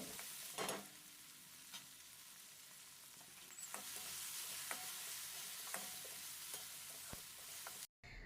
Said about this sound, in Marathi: टोमॅटो हलकासा सॉफ्ट होईपर्यंत फक्त अर्धा ते एक मिनिट परतवून घ्यायचं आहे